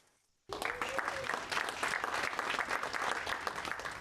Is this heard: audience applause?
yes